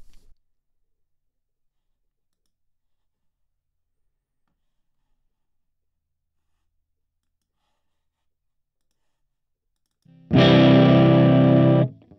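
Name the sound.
electric guitar through an amp simulator plugin in Logic Pro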